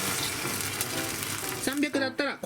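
Water poured into a hot pan of lightly sautéed cauliflower, hissing in a loud, continuous sizzle, with a voice speaking briefly near the end.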